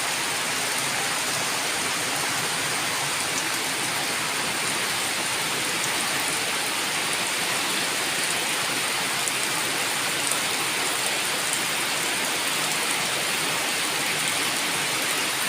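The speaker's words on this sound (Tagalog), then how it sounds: "Malakas ang ulan." Heavy rain pours steadily and loudly, a dense unbroken hiss of drops drumming on surfaces with no other sounds standing out.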